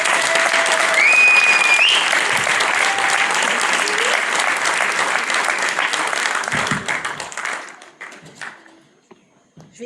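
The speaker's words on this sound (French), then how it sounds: "je vous demande de faire vraiment un tonnerre d'applaudissements pour Nastéo" A political rally crowd for a municipal election bursts into loud, sustained applause with a few whistles and voices mixed in. The clapping stays dense and full for several seconds before thinning out and fading near the end.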